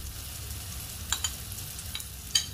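Prawns cook in a spicy fry on a low flame with a gentle steady sizzle and three or four light metallic taps from a spoon in the pan, quiet and close, without speech.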